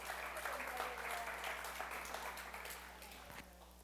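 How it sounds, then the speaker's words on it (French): Applause from an audience at a French-language church teaching session on the Apocalypse, a steady wash of clapping holding for several seconds and tapering slightly toward the end. "Applaudissez-la, vraiment, France."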